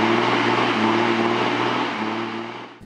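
An old car engine strains with its tires spinning, a loud steady droning hum with sustained tonal whine that holds evenly, then dips slightly and fades near the end.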